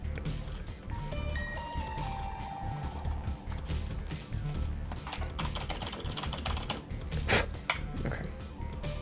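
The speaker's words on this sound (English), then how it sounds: "God, my keyboard needs to be cleaned out." Clattery computer keyboard typing with one stuck, malfunctioning key, rapid uneven bursts of keystrokes close up, some repeated hard presses, while a person talks over it.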